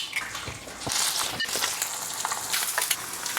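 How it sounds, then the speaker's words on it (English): Eggs fry in a pan with a steady broad hiss and sizzle, dotted with small pops and crackles, close and continuous. "Moving on to the eggs now. Please give me a nice sizzle."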